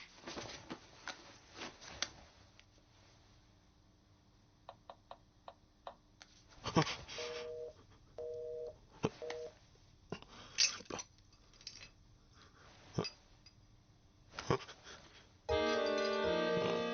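A telephone is dialed in a quiet indoor scene, with short paired keypad beeps among scattered light ticks and clicks, ending in a sustained electronic tone.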